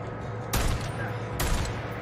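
Gunfire in the Days Gone video game: two sharp shots about a second apart, each a broadband burst over a steady low game ambience.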